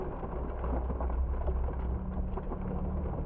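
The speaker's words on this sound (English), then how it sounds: "It's raining." Steady rain falls continuously, a dense wash of patter with a low rumbling undertone and no voices.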